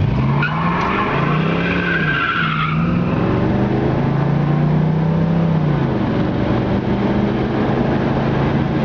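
A 1969 Pontiac Firebird convertible accelerates hard, its loud, close engine rising and falling in pitch through the revs while the tires squeal and skid continuously.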